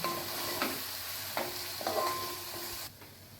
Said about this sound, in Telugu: క్యారెట్లు వేసుకుందాం. వేసుకొని బాగా కలుపుకుందాం.